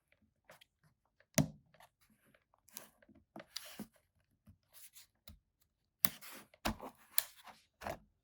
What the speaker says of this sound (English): we gotta take the battery out.